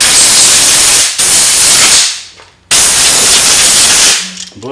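Compressed air blasting off a lathe part, a die body, in two long loud hissing bursts with a short pause between them. No one speaks.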